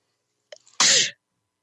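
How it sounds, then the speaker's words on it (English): A single sharp sneeze, preceded by a brief quick inhale, bursts out close up in a quiet room. "I'm going to sneeze"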